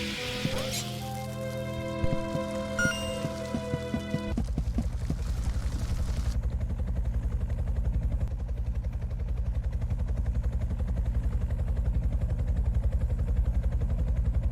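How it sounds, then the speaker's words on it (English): A video game helicopter's rapid rotor thump runs loud and continuous, taking over after a few seconds of musical tones and holding steady to the end. "As we sat waiting for the helicopter to pass"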